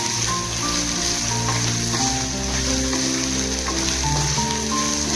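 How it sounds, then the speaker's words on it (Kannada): Dry fish fries in a hot pan with oil, giving a loud, dense, continuous sizzle and crackle close by, with occasional stirring in a village-style kitchen. "ಇದನ್ನಿವಾಗ ಚೆನ್ನಾಗಿ ಫ್ರೈ ಮಾಡ್ಕೊಳ್ಬೇಕು."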